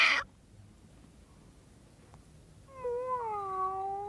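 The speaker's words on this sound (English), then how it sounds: "Do you want to be my witch's cat?" A cartoon witch's cat gives one drawn-out, wavering meow near the end, after a brief burst of sound and a quiet pause.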